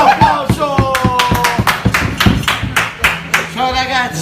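A small group claps and taps in an irregular burst to greet an arriving guest at a post-work dinner, with loud voices and shouting over the hand claps close by.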